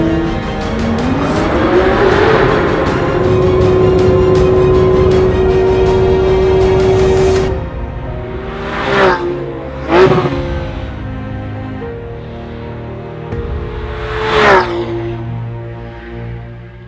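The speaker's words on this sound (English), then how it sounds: "So this is it, the ultimate fun machine for the road, the 991 generation Porsche GT3." A 991-generation Porsche GT3 sports car driving, its engine revving hard and holding a high, loud, steady wail, then dropping off with sharp blips and revs as it shifts and slows.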